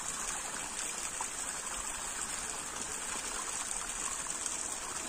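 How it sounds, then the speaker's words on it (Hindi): Continuous rushing and gurgling of a mountain stream flowing over rocks, steady and fairly close, with no voices. "ये देखिए पहाड़ से पानी आता रहता है।"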